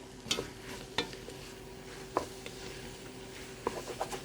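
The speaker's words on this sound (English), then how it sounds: "over here I got my onions cooking in the pot very slow" Onions cooking slowly in a pot, left to caramelize for French onion soup, give a soft, steady sizzle with a few clinks and scrapes from stirring.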